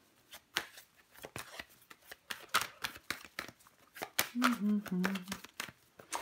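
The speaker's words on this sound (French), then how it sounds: "Je vais recouvrir les cartes." Tarot cards being handled and laid over one another on a table, with soft repeated flicks and slides plus brief shuffling, heard close up alongside quiet speech.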